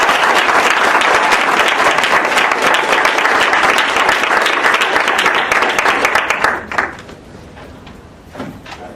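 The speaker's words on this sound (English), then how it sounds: "a warm round of applause to welcome him to the stage" Sustained, loud audience applause at a debate event welcoming a speaker to the stage, dense clapping for about six and a half seconds before abruptly fading into room quiet.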